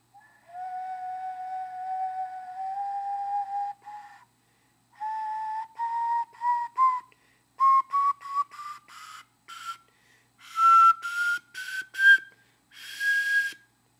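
An ocarina plays a series of clear, breathy notes, first held long tones, then shorter phrases climbing higher in pitch, with brief pauses between.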